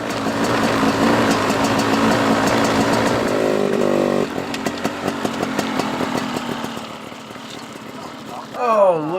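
KTM Freeride and Husqvarna FE250 dirt bike engines on a trail at Eagle Mountain, a close buzzing motorcycle drone that drops in pitch and grows choppy, with a rising rev at the end and voices talking over it.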